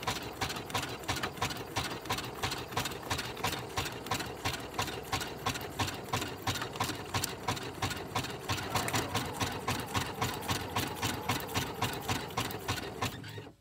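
A sewing machine stitches along a paper envelope made from sheet music, running in a steady fast mechanical chatter of needle strokes for the full stretch, close and even, with no voices.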